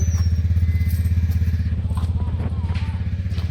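A motorcycle engine putters with a steady, rapid low throb during a family ride out on the bike, loud and close, with faint rattles on top.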